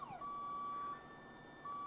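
Reversing beeper on a vehicle in Farming Simulator 19, a piercing electronic tone held in long steady beeps with a short gap between, loud and alone.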